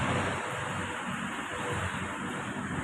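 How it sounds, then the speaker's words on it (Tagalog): Waves wash against the seashore in a continuous broadband roar, steady and close, with wind buffeting the microphone on a cold day by Manila Bay. "Ito na po yung tabing dagat."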